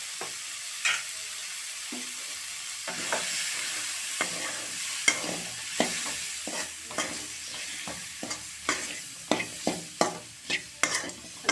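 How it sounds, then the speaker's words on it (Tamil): Onions and chili powder sautéing for a chickpea kulambu give a steady close sizzle, with frequent scraping stirring strokes that turn louder and quicker toward the end, and no talk. "வெங்காயம் வணங்குற ஹீட்லேயே மிளகாய்த்தூள் வாசமெல்லாம் போயிடும்."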